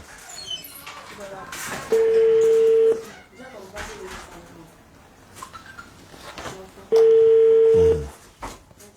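Two long, steady WhatsApp call ringing tones sound about five seconds apart, loud and close. Talk and background murmur fill the gaps between them.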